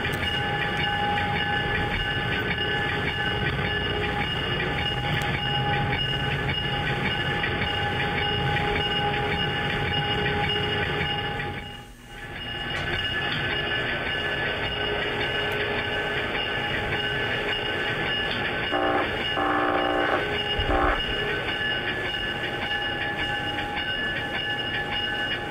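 An Amtrak train pulling into Sunnyside Yard rumbles steadily with a continuous mechanical drone and hum, a brief dip midway, then a few clanks as it rolls slowly along.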